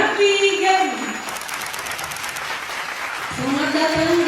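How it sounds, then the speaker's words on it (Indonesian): Applause from a press-conference audience at a university greets a new brand ambassador for Aruna Indonesia, a moderate burst of clapping between stretches of a voice and tonal sound. "Mari kita sambut dengan penuh semangat dan tepukan yang paling meriah, Raffi Ghani"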